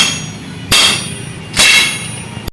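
A hammer strikes a metal leaf spring clamp on a Bolero pickup twice, each blow a loud, sharp metallic clang with a brief ringing decay, spaced about a second apart.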